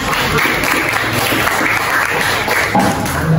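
Classroom applause for a student group during a science lesson on pressure in solids, a steady wash of clapping from a crowd of pupils, fairly loud and continuous with a few heavier thumps mixed in.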